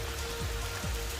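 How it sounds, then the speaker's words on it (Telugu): Rain falls steadily in a dense forest near Amruthadhara Waterfalls in Maredumilli, Andhra Pradesh, a continuous even hiss of drops on leaves and surfaces with nothing else standing out. "అంటే ఇవాళ వర్షం వస్తుంది."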